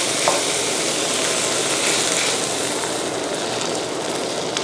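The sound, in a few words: stir-frying sweet-savory filling in a pan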